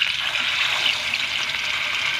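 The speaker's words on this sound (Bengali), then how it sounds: "আমাদের তেলটা গরম হয়ে গেছে, এবার আমরা হলুদ মাখানো মাছগুলো আমরা দিয়ে দেব।" Turmeric-coated ilish fish hitting hot mustard oil in a pan, a loud, dense, even sizzle and hiss that holds steady from start to finish, close by with no voices.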